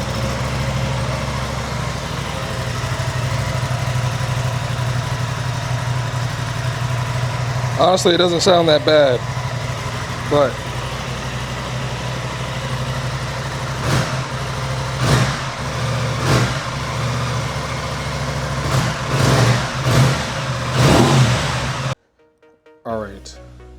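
A stock-exhaust Aprilia RS660 motorcycle idles with a steady low drone, then gets several sharp throttle blips, some in quick bursts, with a person talking over it before it cuts off abruptly near the end.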